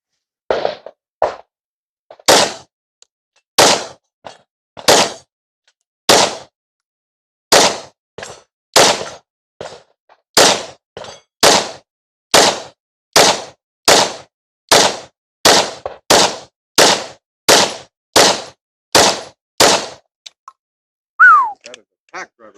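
A PSA Sabre Dagger pistol fired with a Glock 19X magazine: about twenty sharp, loud shots at a steady, deliberate pace, fairly close, each with a brief tail, ending in a short pause and a final shot.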